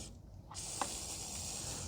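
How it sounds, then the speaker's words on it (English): A short click, then a steady hissing spray from a penetrating oil aerosol can, used on a 2015 Toyota Sienna's catalytic converter nuts, continuing close and loud until the end. "So I'm just gonna spray a tad bit."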